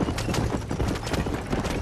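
Horses pulling a wagon in Red Dead Redemption, loud rapid clip-clop hoofbeats in a brisk uneven rhythm, close and continuous with rumbling wheels.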